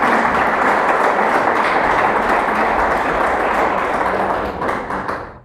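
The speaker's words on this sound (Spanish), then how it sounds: "que ese aplauso sea para Dios" A church congregation applauds together in a dense, steady wash of clapping that fills the room at close range and fades out near the end.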